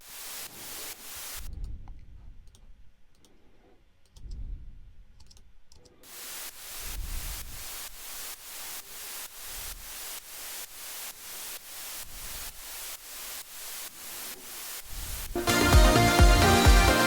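White noise from a Sylenth synth plugin, played as a fast run of short rhythmic hissing bursts with a few brief dips, then swelling into a louder, denser sustained hiss at the end.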